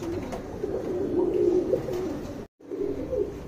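Pigeons coo in a low, soft, rolling murmur, with several birds calling together up close. A brief gap breaks the sound near the end before the cooing resumes.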